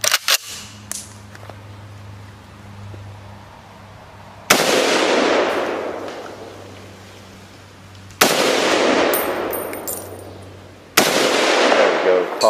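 FN FAL rifle firing single shots outdoors, three sharp loud reports spaced several seconds apart, each followed by a long echoing decay, with a low hum between.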